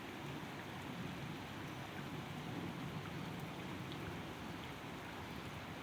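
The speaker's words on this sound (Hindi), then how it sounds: "तेज़ बारिश हो रही है।" Heavy monsoon rain falls across a Karachi city street as a dense, even hiss of rainfall, steady and unbroken throughout, moderately loud with no voices.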